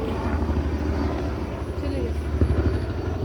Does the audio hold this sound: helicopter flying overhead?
yes